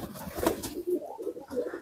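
Caged pigeons give soft, low throaty coos in short repeated phrases, fairly close, with light rustling between calls.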